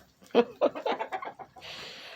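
Chickens cluck in a quick run of short, throaty notes nearby, followed by a soft rustling hiss.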